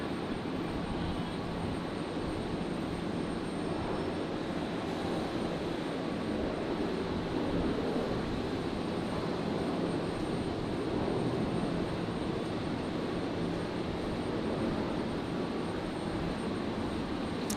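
A Qantas Boeing 737 arriving from Hobart touches down on runway 01 right at Brisbane Airport, a steady, fairly distant jet roar that holds evenly throughout with no talking.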